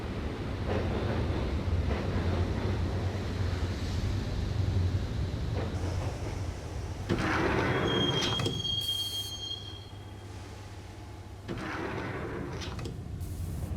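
A train in the video game Max Payne rolls along with a steady rumble and clatter, then metal wheels squeal in a high, sustained screech before the rumble settles again.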